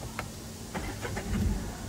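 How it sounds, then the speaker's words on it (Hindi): A Tata Altroz BS6 car engine cranks and catches, a short sequence of faint starter pulses that rises into a low running rumble by the end. "तो देखिए अब स्टार्ट हो रही है गाड़ी"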